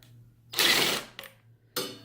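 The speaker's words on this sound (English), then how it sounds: "I already loosened these two, so I'm going to loosen up this one here." A power driver loosens screws on a foot rest being re-covered: two close whirring bursts with a short buzz between them, sounding alone against a low steady hum.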